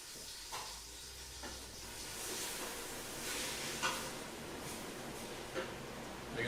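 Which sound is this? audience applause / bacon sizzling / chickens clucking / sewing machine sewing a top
bacon sizzling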